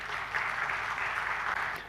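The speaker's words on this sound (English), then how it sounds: "May I have a round of applause for you?" An audience at an architecture design debate in Surat applauds, a soft, even patter of many hands that stays steady for a couple of seconds without talk.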